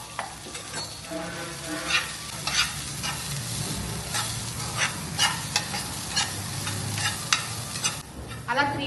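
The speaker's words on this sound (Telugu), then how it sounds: "ఇప్పుడు మనం దీన్ని వేయించుకుందాం లైట్గా" Broccoli stir-fried lightly in a spoonful of oil, a close continuous sizzle with rhythmic scraping and tossing of a spatula in the pan, no voices.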